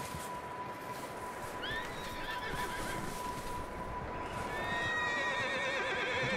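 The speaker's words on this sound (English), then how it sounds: "Horses are startled." Startled horses in the Red Dead Redemption 2 video game give repeated shrill whinnies over a steady background of hooves and ambient game sound. The horses sound moderately close, with no talk.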